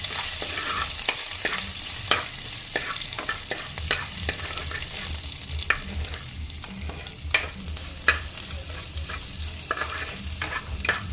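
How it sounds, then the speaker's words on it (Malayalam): Julienned ginger stirred and sautéed in a pan for a Kerala mackerel curry, a constant soft sizzle broken by regular scraping clicks of the spoon against the pan. "ഇനി ഇതിൻ്റെ പച്ചമണം മാറുന്ന വരെ നന്നായി ഇളക്കുക"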